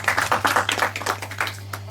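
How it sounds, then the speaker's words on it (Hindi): A small audience at a junior quiz show claps for a contestant named Chirag. Brief, uneven clapping rises and quickly thins out over a low steady hum. "एक बार जोरदार ताली हो जाए चिराग के लिए"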